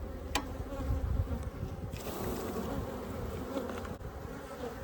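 Dense, steady buzzing of Africanized and European honey bees swarming around an open hive during an inspection, close and continuous with a few brief knocks.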